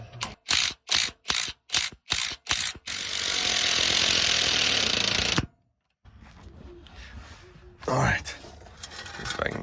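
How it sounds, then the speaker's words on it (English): A ratchet drill fitted with an extension drives bolts while installing added fourth-row seats in a 2017 Chevy Suburban, giving a string of short, sharp bursts followed by a longer steady whir that stops abruptly, then quieter handling noise. "I've got an extension for my ratchet drill"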